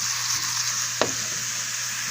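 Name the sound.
mushrooms cooking in a pan on low heat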